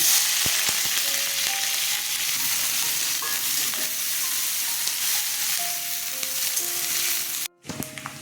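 Onions sizzle loudly and steadily in a hot pan while a spoon stirs and scrapes now and then, with a brief dropout near the end.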